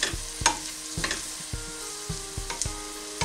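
Onion, leek and garlic sizzling gently over very low heat in a pan, a soft steady fry punctuated by regular clacks and scrapes of stirring.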